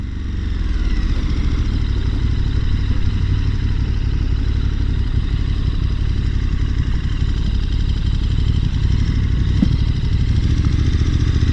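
KTM 1290 Super Adventure S motorcycle ridden on a wet road, a steady loud engine drone with wind rush, constant and close throughout with no talk.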